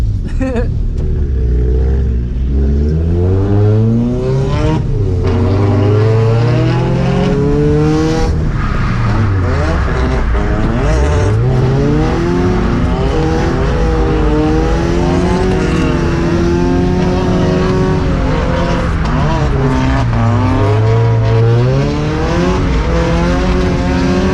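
Scion FR-S drift cars tandem drifting on a track roar loudly and continuously, the engine note climbing and falling through repeated revs with tire noise underneath.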